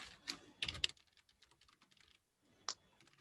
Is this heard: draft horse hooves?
no